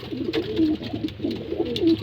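A pigeon coos softly and repeatedly at close range while being fed on the floor of its loft, and no one speaks.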